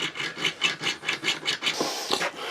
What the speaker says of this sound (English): I'll get a saw, I've got a saw, small little junior hacksaw, so I'm going to just cut that off gently